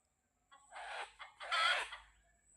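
A single chicken gives a short, close call in two bursts, clucking and squawking against a quiet background.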